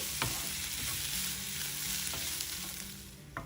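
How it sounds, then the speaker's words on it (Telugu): Onions fry in oil until golden brown for an egg kurma, giving a steady close sizzle broken by occasional scraping stirs of a spoon in the pan, with no voices. "ఉల్లిపాయ గోల్డెన్ బ్రౌన్ కలర్ వచ్చే వరకు వేయించుకోండి."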